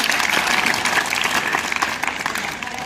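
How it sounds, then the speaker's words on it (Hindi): An audience at a summer camp astronomy workshop gives a short burst of steady, close applause that continues evenly for a few seconds. "इनके लिए एक बार तालियां।"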